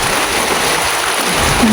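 Heavy storm rain falls over flooded rice fields in Laos, a dense, steady hiss of downpour close by with no pauses.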